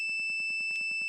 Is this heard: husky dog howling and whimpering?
no